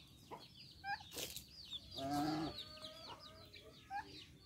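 Eight Rhode Island Red chickens in a backyard coop clucking in short scattered calls, with one louder drawn-out squawk in the middle, fairly faint and close with no voices.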